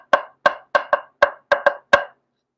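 Eight dry, dull taps on cracked wooden bones in a quick irregular rhythm, close up, each short with a flat, slightly rattly quality.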